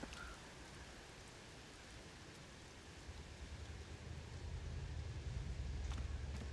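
Steady in-game rainfall in Tears of the Kingdom, a broad continuous hiss that grows heavier and louder toward the end, with a low rumble building underneath.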